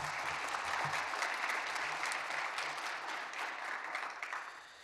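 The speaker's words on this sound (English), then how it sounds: "A round of applause for them as well." An audience at a small-town pitch event applauds with a steady, dense clapping that holds evenly for several seconds before gradually tapering off.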